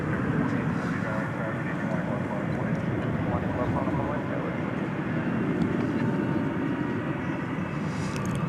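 An American Airlines Boeing 737-800 arriving from Reno at DFW Airport at night makes a steady, broad jet roar that holds at an even level throughout. The engine noise stays continuous, moderately close and without clear peaks.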